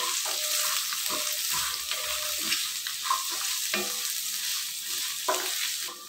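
Onion, ginger and fenugreek fry in a pan for fenugreek pulao, producing a steady close sizzle broken by occasional scraping stirs.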